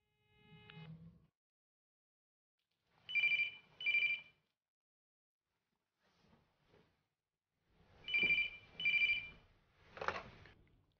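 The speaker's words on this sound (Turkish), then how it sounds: "Kamil, telefonga qara bola." A telephone rings in short paired bursts, two rings near 3–4 s and two more near 8–9 s, clear and close in an otherwise quiet room, with a brief voice at the start and one near the end.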